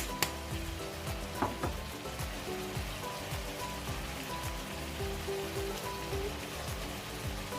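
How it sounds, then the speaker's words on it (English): Chicken pieces frying in a pan for a pasta bake, a steady close crackle and sizzle like light rain, with scattered pops and the occasional sharper clink. "So the chicken has been frying for a while now"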